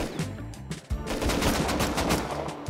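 Gunfire in the video game Rust, rapid bursts of automatic shots rattling in quick succession, with a short break and then more firing.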